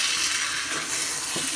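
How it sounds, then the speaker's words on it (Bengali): Chicken and potatoes stirred and fried in a pan for a spicy Bengali chicken bhuna, giving a steady close hiss and sizzle with soft scraping of the stirring spoon throughout. "ভালো করে নেড়ে কষাবো।"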